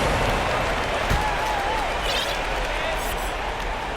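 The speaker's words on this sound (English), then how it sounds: "The crowd has started to get nervous, but now they're just fired up." An arena crowd in the basketball video game NBA 2K22 cheers in a steady roar, with a commentator talking over it and a single ball bounce near the start.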